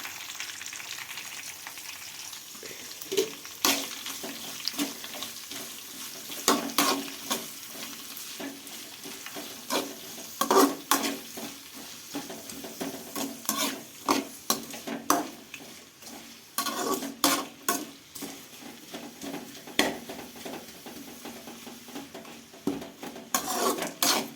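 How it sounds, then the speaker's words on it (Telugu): Two onions fry in a pan for an ash gourd curry, a continuous close sizzle broken by frequent scraping stirs and spoon knocks against the metal, with no voices. "ఉల్లిపాయలు కూడా వేసుకుంటున్నా రెండు ఉల్లిపాయలు అయితే వేసుకుంటున్నా"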